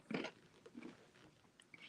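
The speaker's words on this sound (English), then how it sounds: "Just chewing a little ice." Someone chews a little ice close up: a loud crunchy bite burst at the start, then softer crunching and mouth sounds fading under it, with no talking.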